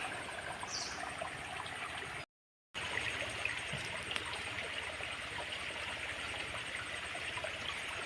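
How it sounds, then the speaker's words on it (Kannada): Clear, cold stream water flows steadily through crab-made holes in a bank, a constant close rushing and trickling with no voices. "ಕ್ಲಿಯರ್ ವಾಟರ್ ನೋಡಿ ಇದರ ಒಳಗಿಂದ ಸಹ ನೀರು ಪಾಸಾಗಿ ಹೋಗ್ತದೆ"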